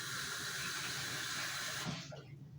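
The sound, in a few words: water running into sink to soak a dish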